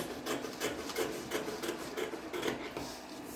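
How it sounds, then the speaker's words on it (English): Scissors snipping through fabric while cutting out the front piece of a pencil skirt, a steady series of short, close crisp cuts repeating at a quick rhythm. "Then the front, I'm cutting this out for the front"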